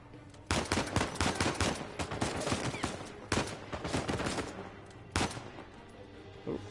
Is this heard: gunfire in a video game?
yes